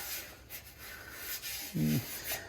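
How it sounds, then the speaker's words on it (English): Quiet rubbing and rasping strokes of sandpaper scrape over body filler on a Ford Falcon 500 XY ute in uneven passes, fairly close and faint. "I'm just sanding it in now so that I can do that."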